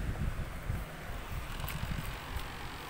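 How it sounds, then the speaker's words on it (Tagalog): Steady wind gusts outdoors in Turkey rumble across the microphone, a continuous low buffeting roar with no voices. "Mahangin kasi."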